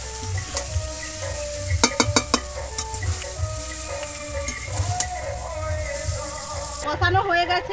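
Chicken for biryani sizzles steadily in a pan, with scraping stir strokes and a few sharp utensil clinks partway through, then a brief louder splash or clatter near the end.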